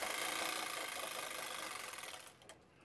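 Sewing machine stitching a dress for a four-year-old girl, a close, fast, even mechanical whir that runs steadily and then slows and stops near the end.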